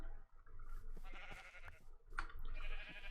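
Sheep bleating in a video game, a few soft, wavering bleats from farm animals heard at low volume amid faint background game sounds.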